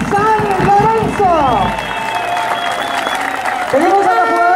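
A crowd applauds the champion San Lorenzo, nicknamed el rayadito, at a trophy celebration. The clapping is loud and steady, with whistles and an announcer's voice heard over it.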